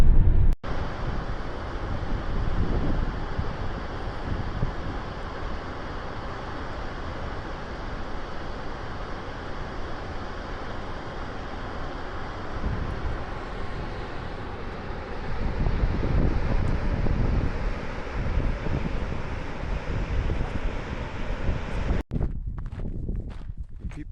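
Gusty Icelandic wind buffets a van, a steady loud rushing with swelling surges around the middle, broken by a brief dropout and sharp knocks near the end.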